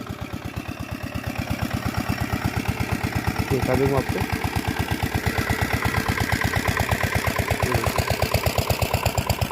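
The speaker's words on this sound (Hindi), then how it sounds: "तो देखिए हमारा डीजल इंजन यहाँ पे स्टार्ट है।" A diesel engine used to pump irrigation water for a radish field idles with a steady, rapid, heavy chugging. Someone talks over the noise.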